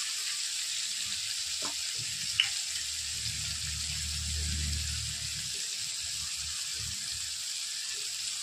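Spices with asafoetida hitting hot oil for a whole-masoor khichdi tempering, making a steady, moderate hiss with a few soft clinks and a brief low rumble in the middle.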